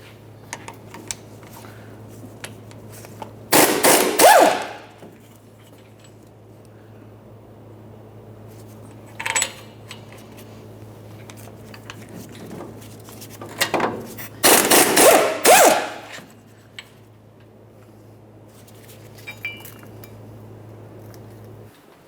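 Wrench work on 18mm wheel bearing mounting bolts on a 2004-2008 Ford F-150 steering knuckle: two bursts of rapid metallic ratcheting and clanking separated by quiet, with a few faint taps and a low steady hum in between.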